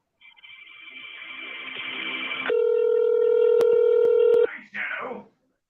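A telephone keypad dials a number as a run of steady DTMF tones that rise into a continuous held tone, then a short burst follows. Loud and close, with no talk over it.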